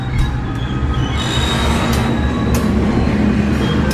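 Train wheels squeal loudly and steadily as a train pulls into Surabaya Pasar Turi station, with high metallic screeching over a constant low rumble of railcars and no talking.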